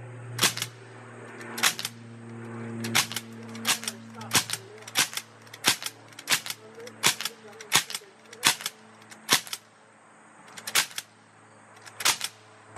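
A Sig MCX air rifle fires pellets in a series of sharp, crisp cracks, about fifteen shots spaced irregularly roughly a second apart, loud and close over a low background hum.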